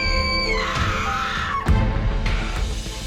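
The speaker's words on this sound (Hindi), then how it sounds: "तुमने चीख क्यों मारी?" A woman screams in a TV drama scene, a loud, sustained high cry that slides and wavers for several seconds over a background of music and room noise.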